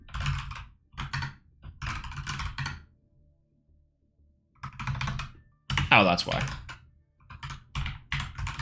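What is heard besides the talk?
typing on a computer keyboard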